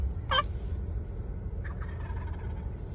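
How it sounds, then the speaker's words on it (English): Wild turkeys gobbling back in answer to a turkey call, one sharp, close gobble at the start followed by a fainter, more distant answering gobble over low outdoor background noise. "shows pure joy when the turkeys call back"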